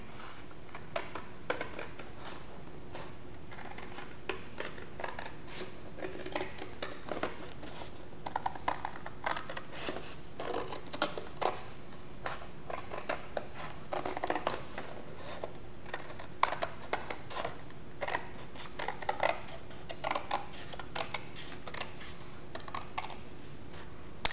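Traced cardboard being cut by hand for a homemade spotlight, giving a steady run of close crisp snips and rasping cuts that carry on throughout with no talk.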